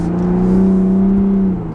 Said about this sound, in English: it sounds like any other turbocharged V6 engine.